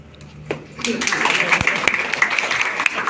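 An audience at a public meetup breaks into applause after a short pause, clapping building quickly and continuing under a murmur of voices.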